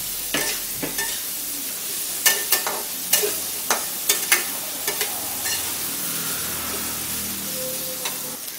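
Drumsticks and eggplant being stirred with potatoes in a frying pan, a steady sizzle broken by repeated crisp scraping knocks of the spatula, close and clear, with no talking.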